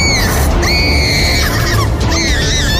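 A woman screams loudly and shrilly in a dramatized horror story, with sustained, wavering cries over dense, rumbling background noise that fills the whole stretch.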